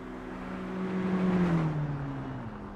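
A car driving slowly in the video game GTA V, an engine hum that rises slightly in pitch then settles, steady and moderately loud with no voices.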